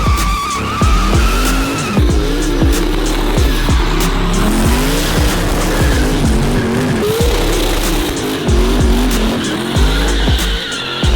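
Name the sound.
video game car burnout hitting rev limiter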